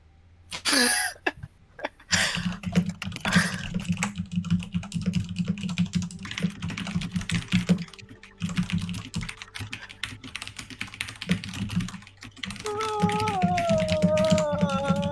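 Rapid keyboard clicking runs through most of the stretch, a dense clatter of keystrokes with short pauses, over a low background hum and music near the end.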